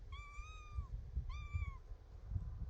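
A cat meows twice near a chicken coop, two clear drawn-out calls separated by a short pause, with low rumbling background noise underneath.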